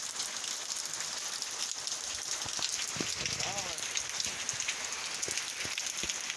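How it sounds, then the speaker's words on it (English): Steady rain falls outside a grandmother's house on 66th Street, a dense continuous hiss of drops spattering on surfaces, with scattered louder nearby plinks and drips standing out. "at all this rain"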